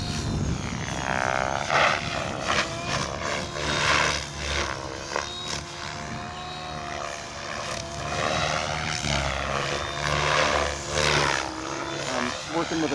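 A Gaui X7 radio-controlled helicopter flies on its maiden flight, its rotor and motor giving a continuous buzzing drone that swells and fades as it moves about, with a voice talking over it at times.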